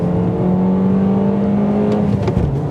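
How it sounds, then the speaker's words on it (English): A 2021 Toyota Corolla Apex Edition with a catback exhaust holds a steady, moderately loud engine drone under throttle for a few seconds, heard from nearby with no talk. "Let's give it another throttle."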